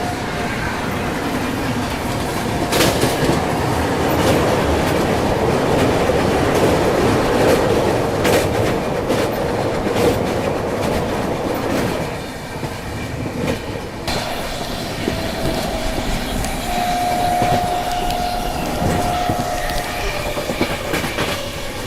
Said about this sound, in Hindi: और ये है गोल्डन टेम्पल मेल। ओवरटेक ना सही पर क्रॉसिंग तो मिल गई।